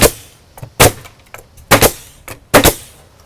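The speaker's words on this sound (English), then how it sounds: "I'm going to finish nailing this" Four sharp hammer strikes driving nails through a PVC rafter tail into a wall, evenly spaced and loud up close, with a little ringing after each blow and quiet gaps between.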